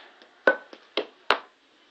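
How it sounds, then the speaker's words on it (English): Cup song rhythm of clapping hands and tapping cups: five crisp, close hits in an uneven pattern, a few loud claps alternating with softer taps, then quiet. "Clap, tap, tap, tap, clap"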